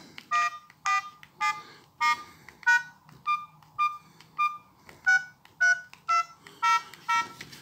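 An old mobile phone with a black display gives a steady series of short, high-pitched beeps, about two per second, clear and close, with faint handling noise between them.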